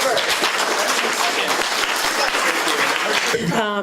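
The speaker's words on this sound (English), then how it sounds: "let's give them all a good round of applause." A debate audience applauds the candidates in a full, steady burst of clapping from many hands. It runs close and loud, and a voice cuts in at the very end.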